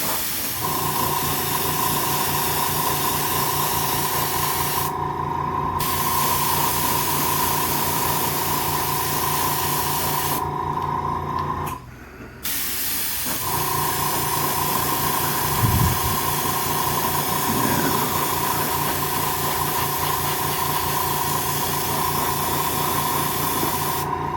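An airbrush or spray gun hisses steadily while building up lighter shades on a Robby the Robot figure, a continuous close spray with a brief pause midway before resuming.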